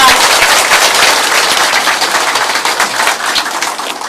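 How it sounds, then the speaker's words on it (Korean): Loud, dense applause fills a Korean ceremony appointing a technical and research advisor. Many hands clap at once, sustained and close for about four seconds, with no talking over it. "정명희 박사님 큰 박수로 모시겠습니다"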